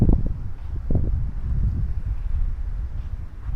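Wind blows at an artificial island beach in the evening, producing a gusty, low buffeting rumble close on the microphone with uneven surges throughout.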